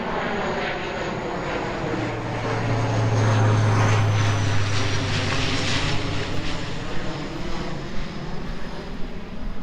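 A low-flying airplane passes over a lake in Regina on approach to the airport, its steady engine drone swelling louder and nearer before slowly fading, heard alone with no talking.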